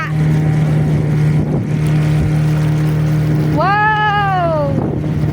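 A motorboat engine droning steadily up close on a river near Callao Cave, Peñablanca, Cagayan, with wind and water noise and a brief rising whine near the end.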